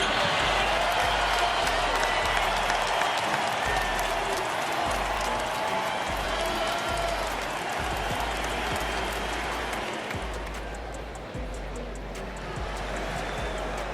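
Home crowd in an NBA 2K23 arena applauding and clapping in a dense, continuous roar, with occasional low thumps; the noise gradually thins and softens toward the end.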